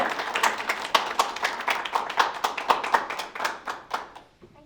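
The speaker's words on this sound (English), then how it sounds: "So if you can give a round of applause, we're going to get started" A room full of people clapping steadily at a literature finalists reading, a dense burst of applause that fades out near the end.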